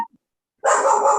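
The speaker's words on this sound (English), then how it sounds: "I think that was a favorable bark." A single dog barks once, close and loud, after a brief silence, during an online advisory committee meeting.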